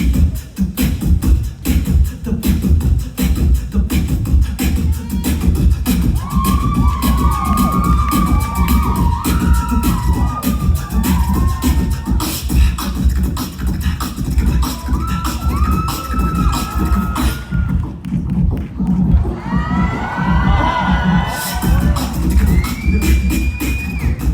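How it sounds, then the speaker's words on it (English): An audience at a Revoice show during a birthday celebration applauds and cheers loudly, with continuous dense clapping joined by shrill rising and falling whoops and whistles throughout. "give her a very, very big round of applause"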